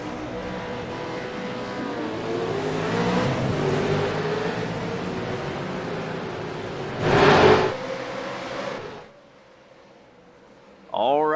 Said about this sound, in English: They're lighting up and the engines are revving.